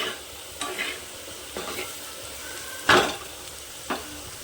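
Papaya pieces frying in a pan for a moong dal dish, with a soft background sizzle broken by several distinct scraping stirs of a spatula, one louder stroke near the middle, close and without talk.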